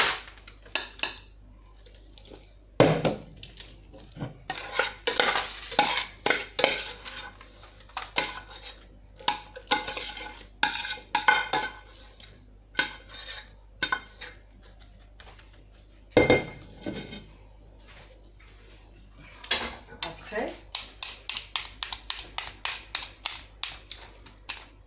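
A stainless steel spoon working caramel cake batter in a pan: repeated sharp clinks and scrapes of metal against the pan, irregular bursts with brief pauses, close and clear with no talk.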